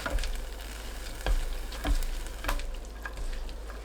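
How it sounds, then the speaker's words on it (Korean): Mung bean sprouts and perilla leaves sizzle and crackle in a hot pan with seasoning sauce, with a few sharp scrapes and clacks of stirring at an uneven rhythm. "양념 붓고 1분 볶습니다."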